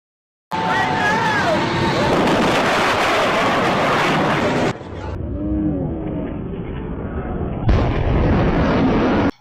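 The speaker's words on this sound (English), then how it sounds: "the slowed down version of what a sonic boom sounds like" A slowed-down sonic boom, a deep, drawn-out rumbling roar in several sections with abrupt cuts between them, heavy and booming throughout.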